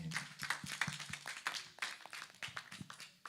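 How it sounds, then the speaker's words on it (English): An audience at a youth career day event applauds its panelists, a thin scattering of individual claps at an uneven pace, fairly quiet and heard from somewhat close. "let's give a round of applause again for our panelists here"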